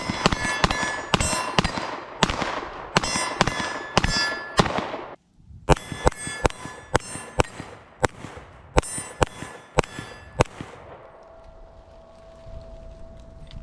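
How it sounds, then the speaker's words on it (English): Rapid handgun shots from a Glock pistol at a shooting range, fired as fast as possible: two sharp bursts of loud cracks with ringing echoes, a short pause between them, then the fading ring of the range. "I'm just gonna shoot as quick as I can, trying to make accurate shots with a handgun"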